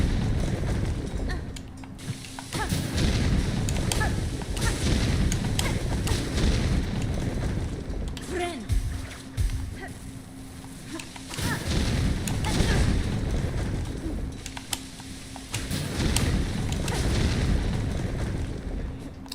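Exploding enemies blow up in Silksong in several heavy, booming bursts that come in waves, each with a rumbling tail, loud and close with only brief quieter gaps between them.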